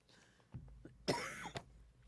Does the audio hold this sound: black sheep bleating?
no